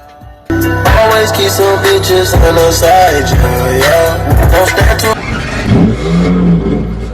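Simulated car engine in a driving video game revs loudly and continuously, rising and falling in pitch through several throttle blips, starting abruptly after a brief quiet lead-in and staying close and prominent throughout.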